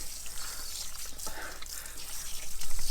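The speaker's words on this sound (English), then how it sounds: "We have been just used to that flimsy little flow of water." Water pours steadily from a van's shower fed by a new water pump, a close, continuous rushing splash with slight fluctuations and no talking.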